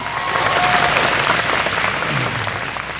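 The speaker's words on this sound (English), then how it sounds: "let's give Nick a round of applause for being our MC" A graduation audience at Santa Susana High School applauds the MC, a dense, steady wash of many hands clapping at even loudness for about three seconds.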